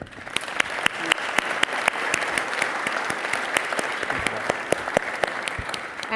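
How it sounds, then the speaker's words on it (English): An audience at a summit breaks into steady applause, many hands clapping densely and loudly for several seconds without a break, with sharper individual claps standing out from the crowd. "I want everyone to give a round of applause to Consul General David Roger"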